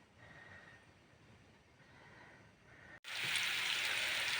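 Mushrooms sizzling in vegetable oil in a pan after their moisture has cooked away, a faint simmer that suddenly swells into loud, steady frying hiss after a brief cut.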